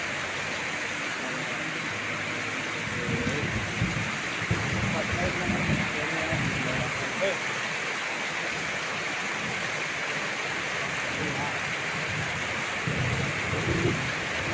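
Heavy rain pours steadily around a house during a flooding thunderstorm, a dense, loud hiss with deep thunder rumbling underneath for the whole stretch.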